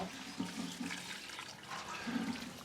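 Water pouring from a watering can onto young plants in a neglected backyard garden, a steady close splashing stream with faint tonal hums running underneath.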